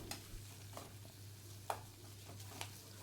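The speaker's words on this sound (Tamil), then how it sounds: "வெங்காயம் வந்து நல்லா வதங்கட்டும்." Onions and green chillies fry in a pan for a potato poori masala, a faint soft sizzle under a low steady hum, with a few light scraping stirs and small clinks against the pan.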